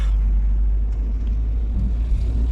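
A Mercedes SLK200 car engine heard from inside the cabin, a steady low rumbling drone as the car accelerates, loud and continuous without talk.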